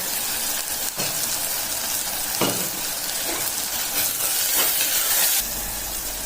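Chopped tomatoes with a little salt sautéing in hot oil in a pan for a kurma, making a loud, continuous sizzle with hissing steam and occasional stirring scrapes.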